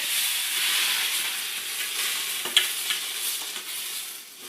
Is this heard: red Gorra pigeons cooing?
no